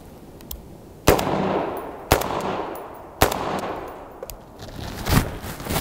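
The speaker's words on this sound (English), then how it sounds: "It is super soft shooting." An FN SCAR rifle fitted with a KNS gas regulator fires three sharp, loud single shots about a second apart, each with a decaying echo, then a softer fourth report.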